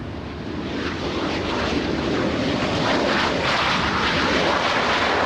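A CRJ regional jet arriving from Wyoming rumbles past at LAX airport, a steady, loud, broadband engine roar that swells slightly over several seconds.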